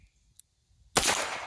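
A single sharp gunshot from a Smith & Wesson Pre-18 K22 revolver fired outdoors, a loud crack after a quiet moment, followed by a lingering echo.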